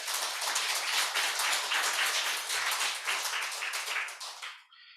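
A church congregation applauds with dense, sustained clapping from many hands at moderate distance, which holds steady and then fades out quickly near the end.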